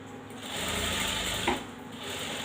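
A sewing machine runs steadily and continuously, stitching along the piping edge of an embroidered blouse, a close, even mechanical hum and rattle with no pauses.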